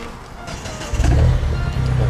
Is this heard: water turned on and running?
no